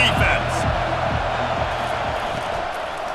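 Stadium crowd roaring steadily on third down at a Virginia Tech versus Florida college football game, a loud sustained wash of voices with a commentator talking over it.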